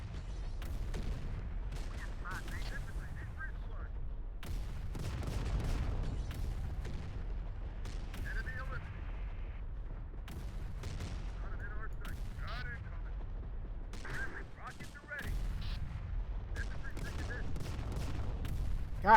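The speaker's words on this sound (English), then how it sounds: "God, how much artillery can that tank take?" Tank artillery and gunfire in the game Terminator Dark Fate: Defiance, with sharp booms and shot bursts recurring every second or two, moderately loud over a low rumbling backdrop, with occasional voices.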